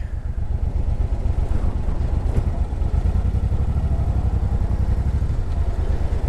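A 2006 Suzuki Boulevard C90 motorcycle engine running steadily, a loud, close, continuous low rumble with a fast, even pulse and no voices.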